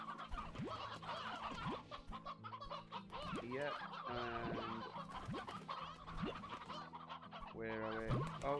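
Chickens cluck and squawk in the Slime Rancher video game, a busy, continuous flock chorus with repeated calls overlapping throughout, someone talking briefly over them.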